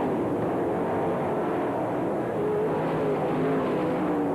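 Sprint cars racing on a dirt track at the All Star Circuit of Champions Winternationals in Gibsonton, Florida, a dense, steady roar of several engines blending into a continuous loud drone.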